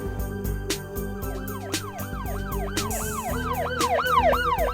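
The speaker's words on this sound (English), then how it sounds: "Ambulance!" Ambulance siren wailing in rising and falling sweeps that speed up and grow louder as it nears, heard over a low musical backdrop.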